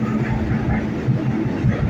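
A Rio de Janeiro metro train runs on its rails with a steady, loud rumble and faint rhythmic clatter, close and continuous throughout.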